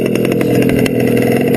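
A modified motorbike engine idles close and loud, a steady low throbbing rumble with a faint mechanical clatter and slight pulses in its beat, with no talking.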